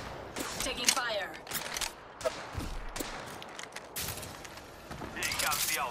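Gunfire in an Apex Legends match, scattered shots and short bursts mixed with mechanical clicks and game effects, moderately loud and irregular.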